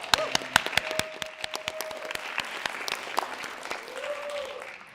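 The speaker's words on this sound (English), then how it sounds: "she's telling her students to clap" Students applauding at the Hamilton Youth Film Festival, a scattering of distinct, crisp hand claps in an uneven rhythm, some louder and closer, over a soft room background.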